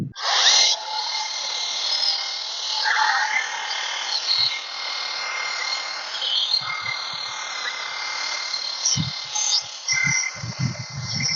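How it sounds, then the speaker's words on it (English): A cordless Heinpro hedge trimmer cutting a hedge bush outdoors, its steady high motor whine and blade chatter running throughout, with occasional low thumps as branches are cut. "So let's check it out over here on our hedge bush and see how well these trim for us."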